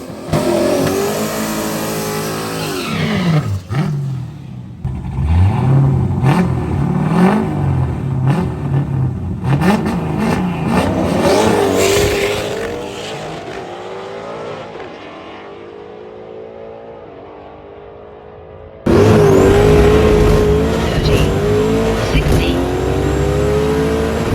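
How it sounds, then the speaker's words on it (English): Drag race car with a new Holley setup makes its first pass on low boost and low timing, engine revving loudly and rising through gears, then a quieter stretch before a loud close engine roar returns; voices are audible. "this is our first pass off trailer, low boost, low timing, to see if our car actually works"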